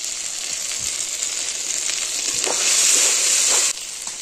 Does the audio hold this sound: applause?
no